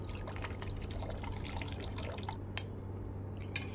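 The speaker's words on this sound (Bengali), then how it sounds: "এরপর ঠান্ডা জল দিয়ে একটুখানি চাউমিনটাকে ধুয়ে নিলাম।" Cold tap water runs steadily over boiled chow mein noodles being rinsed, a continuous trickling splash with a couple of small clinks near the end.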